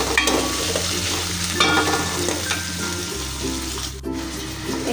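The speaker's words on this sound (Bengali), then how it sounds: "আদা, রসুন, তারপরে জিরা, পেঁয়াজ, এগুলো সব একটু ভেজে নিতেছি" Ginger, garlic, cumin and onion frying in hot oil with stirring, a loud, dense close sizzle overlaid with spatula scrapes against the pan, heard alone.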